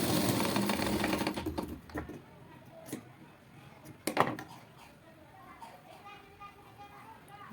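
A sewing machine stitches fabric strips together for a blouse, with a dense mechanical whir for the first second and a half, then light clicks and taps while a person talks.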